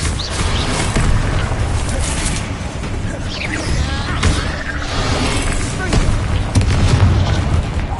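An Incendio fire spell cast in Hogwarts Legacy, loud sustained whooshing bursts and booming roars over several seconds amid combat noise, with a voice speaking at points.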